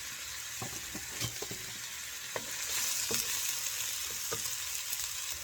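Red onion frying in a pan for a chicken and pork hardinera, a steady close sizzle with scattered sharp crackles and a few stirring scrapes, growing slightly louder midway, with no talking.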